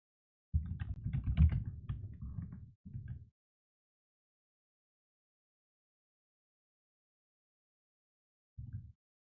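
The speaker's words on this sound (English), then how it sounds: "Keyboard?" Computer keyboard typing during a Pokémon Battle Factory doubles session, heard in a dense burst of keystrokes for about two seconds, then a short cluster, a long silence, and one brief final flurry, with no talk.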